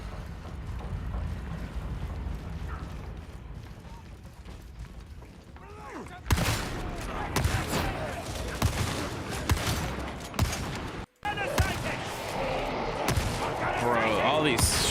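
Shotgun blasts and weapon handling from the video game Darktide ring out amid a chaotic fight: loud repeated booms, mechanical clacks and crowd noise, with a voice talking over parts of it.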